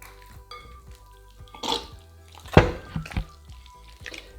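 Water being poured and mixed into pizza dough in a bowl in Italy, with wet squelches, drips and a few sharper knocks and clinks at close range.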